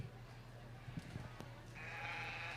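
A sheep bleats faintly at a county fall fair sheep show, one drawn-out call rising near the end over quiet, distant show-ring murmur.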